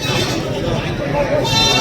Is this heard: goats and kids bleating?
yes